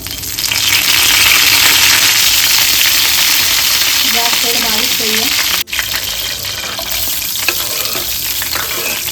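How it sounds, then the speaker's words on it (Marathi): Fennel seeds and curry leaves sizzle loudly in hot oil for a spicy chicken sukka, a steady broadband crackle that runs throughout, with brief stirring clinks and a short dip near the middle. "तेल चांगलं गरम झालेलं आहे आता आपण यात फोडणीला बडशेप टाकायचं"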